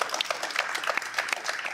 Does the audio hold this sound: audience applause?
yes